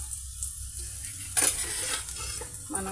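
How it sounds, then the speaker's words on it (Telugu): Large onion pieces fry in a pan with a steady close sizzle, and a brief scrape of stirring comes partway through. "మన పెద్దల్లిపాయ పీసెస్ చక్కగా ఈ విధంగా ఫ్రై అయిపోయాయండి"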